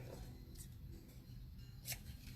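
Scissors snip paper for a Halloween mini-album, two or three short, faint close cuts.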